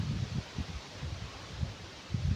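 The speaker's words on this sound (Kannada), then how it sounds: "ಗಾಳಿ ನೋಡಿ ಆ ರೀತಿ ಬೀಸ್ತಾ ಇದೆ." Strong wind from Cyclone Fengal gusting through trees in the hilly Malenadu coffee-growing region, a steady low roar with repeated louder rumbling gusts buffeting the microphone.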